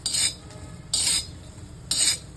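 Green chillies roasting on an iron griddle, with three evenly spaced bursts of bright scraping and rustling as they are stirred or turned, over a low steady background.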